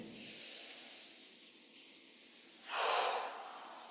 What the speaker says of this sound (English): Rubbing the palms together and breathing.